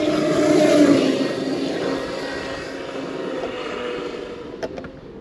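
A Traxxas X-Maxx RC truck on 8S with Sledgehammer tires runs at full throttle, giving a loud, sustained high-speed electric whine that peaks early then slowly fades as it moves away, with a few short clicks near the end.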